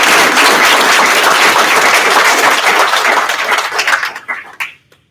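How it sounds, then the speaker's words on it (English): A graduation ceremony crowd applauding loudly and steadily, then the clapping thins out and fades to a few last claps before silence. "Let's give you all a round of applause."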